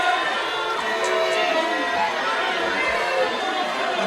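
Wrestling crowd at a live indoor show murmuring and jeering in disapproval, a dense continuous roar of many voices with scattered shouts, steady and loud throughout.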